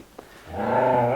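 A dog growls low and steady, rising into a sustained, close rumbling snarl after a brief quieter moment, with no voices over it.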